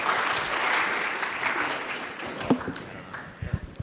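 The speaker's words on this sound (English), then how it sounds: "Please give them a round of applause" Audience applause greets panelists at a crowdfunding discussion, a steady burst of clapping that thins out and trails off into scattered claps and room noise near the end.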